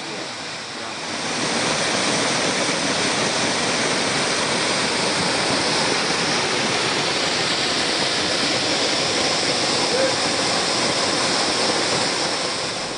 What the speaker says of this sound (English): The great waterfalls cascade from a height of about 60 meters all year round